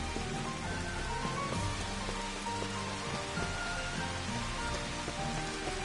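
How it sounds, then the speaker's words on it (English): Steady rain in the video game Final Fantasy XV, a dense, even hiss of drops striking surfaces that stays constant throughout, with faint tonal game sounds underneath. "I'm gonna keep the rain on."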